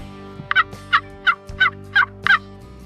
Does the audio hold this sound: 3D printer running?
no